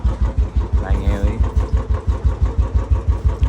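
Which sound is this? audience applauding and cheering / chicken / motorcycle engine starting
motorcycle engine starting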